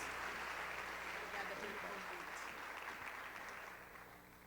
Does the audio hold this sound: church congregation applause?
yes